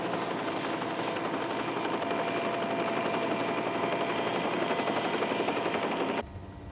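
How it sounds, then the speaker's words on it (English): Helicopter hovering beside a volcanic crater, a steady loud rotor and engine roar that holds throughout and drops abruptly near the end. "I'll have to move the copter clear."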